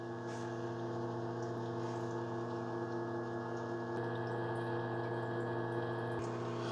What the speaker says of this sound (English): Okay, so there is water coming into the ice chamber.